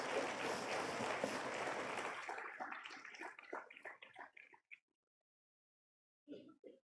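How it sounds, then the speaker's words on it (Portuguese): A church congregation claps loudly and densely for about two seconds, then the applause breaks up into scattered individual claps that die out, followed by silence and a brief faint sound near the end. "Isso, aplauda forte a Jesus."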